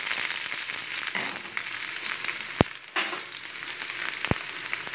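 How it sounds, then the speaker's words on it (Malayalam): Chopped onions hit hot oil with popped mustard seeds for a vegetable kurma, giving a steady, close, loud sizzle with two sharp clicks from a utensil or pan partway through. No one speaks. "നമുക്കിതിലേക്ക് ഉള്ളി അരിഞ്ഞ് ചേർത്ത് കൊടുക്കാം."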